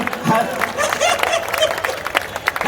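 Audience applause at an All India Kavi Sammelan poetry recital, a steady wash of many hands clapping with crowd murmur, heard at moderate loudness for a few seconds.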